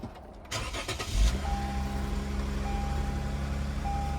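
A 2014 Lexus IS 250 F Sport, bought at a wholesale auction, cranks and then settles into a steady low idle that holds close and even. A faint repeating chime sounds over the engine.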